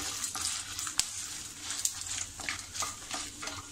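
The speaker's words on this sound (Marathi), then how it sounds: "7-8 लवंगा, 10-12 काळ्या मिऱ्या आणि हे सुद्धा आपल्याला असं व्यवस्थित भाजून घ्यायचं आहे." Cloves and black peppercorns dry roasting in a pan for chicken kolhapuri masala give a faint, close rustling and scraping as they are stirred, with light clicks of the spices shifting and no talk.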